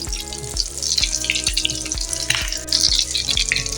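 Potato tikki patties frying in oil, a dense steady crackle and sizzle running throughout with a regular low electrical hum beneath, close and loud with no speech.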